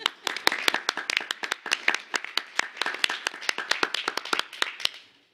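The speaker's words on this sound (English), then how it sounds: "Can we clap for her again?" An audience at a school board meeting claps in a crisp, fairly sparse burst of many individual hand claps, heard close and clear. It holds steady for several seconds, then stops abruptly.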